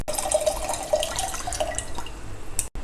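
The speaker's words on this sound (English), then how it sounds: "here I had soaked a small gooseberry size piece of tamarind and extracting the juice" Soaked tamarind is squeezed by hand in water to draw out its juice for rasam, giving close, soft drips and splashes and a wet trickle over a few seconds, with no talk.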